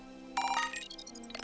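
A bright, rising phone notification chime from the video game Pokemon Violet, ringing out in a quick run of tonal notes over a steady background music hum, with no talking.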